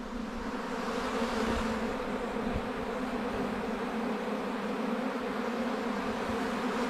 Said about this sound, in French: regardez un peu les abeilles, moi je me lasse pas de voir toutes ces bestioles en activité